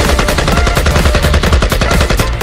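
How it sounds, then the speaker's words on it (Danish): Rifle fired in rapid succession, a dense string of loud, sharp, close gunshots cracking out one after another with no pauses and no voices. "Jeg skød lige et hul i loftet."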